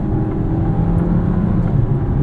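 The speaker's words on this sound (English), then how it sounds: "Power is pretty good. This 9-speed does shift quite fast." A 2023 Dodge Hornet GT Plus AWD with a 9-speed automatic pulls forward, heard from inside as a steady, fairly loud mid-pitched engine drone with road rumble and no distinct gear change.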